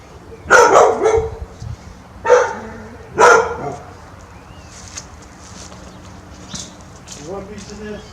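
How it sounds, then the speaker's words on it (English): A dog barks at home while a deer is being butchered, giving three sharp, close barks in the first half before things quiet down. "Would you please stop barking?"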